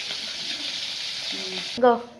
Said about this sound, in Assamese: মাছ ফ্ৰাই মোটামুটি হৈ আহিছে